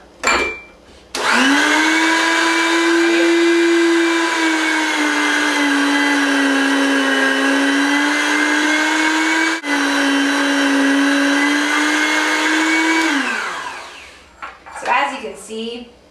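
An electric meat grinder grinding sausage runs with a loud, steady motor whine for about twelve seconds, its pitch sagging slightly under load, then winds down, followed by a few faint clatters.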